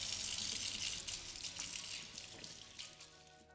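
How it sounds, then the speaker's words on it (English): Hands being washed under a running tap at a sink, a steady close splashing gush of water with slight shifts as the hands move through the stream, fading a little toward the end, with no talk. "So the first stage is you need to wash your hands."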